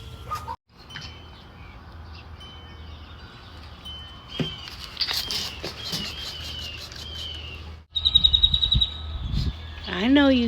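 Garden birds eating seeds chirp and tweet in short bursts, with wing flaps and light pattering nearby, a louder run of chirps near the end, over quiet outdoor background.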